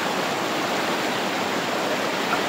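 A river flows steadily where a village-built bridge has collapsed, giving a continuous, dense rushing hiss of water close by, with no voices.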